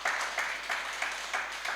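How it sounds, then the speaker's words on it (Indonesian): Applause from a church congregation during a Sunday worship service, a steady wash of clapping with rhythmic pulses as the crowd claps together, moderately loud and filling the room, with no talk over it. "Berikan tepuk tangan yang meriah bagi Tuhan."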